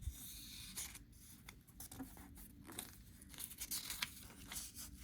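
A sheet of paper is folded in half for a craft piece, giving faint, close crinkles and soft rustling scrapes in short, uneven bursts over a quiet room.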